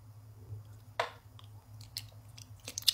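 Close, quiet chewing of a tiny water jelly, with a few soft squishy bites over a steady low hum.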